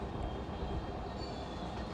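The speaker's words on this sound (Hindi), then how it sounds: "चलो फाइनली मेरी मेट्रो स्टार्ट हो गई है।" A Delhi Metro train running, with a steady, loud rumble of wheels and car noise that fills the clip and continues throughout without talk.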